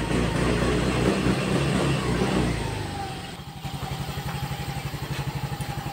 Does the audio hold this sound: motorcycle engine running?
yes